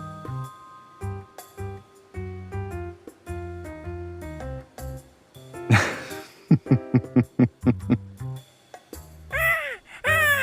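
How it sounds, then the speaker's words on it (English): Squawks and harsh caws from an injured-wing parrot in the video game LADS, several loud bursts rising over a busy game music bed, with a sharp rapid cluster in the middle and a final shrill cry. "This parrot has an injured wing."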